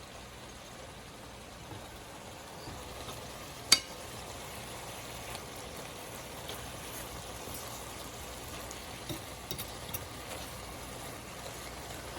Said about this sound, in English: Now we are frying the hamburger mix and the onions together.